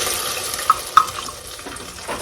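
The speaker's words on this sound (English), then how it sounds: "We're going to add some water." Water pours into a cooking pot holding fried ham ends, a soft steady wash of liquid with a couple of brief clinks near the start, close by and alone.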